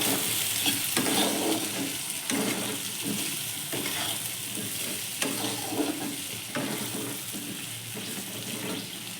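Fish-head and cabbage curry stirred in a pan after chili powder goes in, with a steady sizzle and soft scraping strokes repeating every second or so, close and continuous, with no talking.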